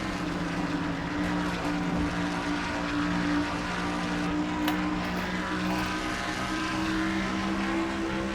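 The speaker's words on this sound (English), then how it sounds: "Now Mitchell Collins goes by in car number 11." Race cars in a racing video game roar steadily on track at a Mountain Dew Southern 500 event, a dense continuous engine drone with slight swells as cars pass, no talking heard.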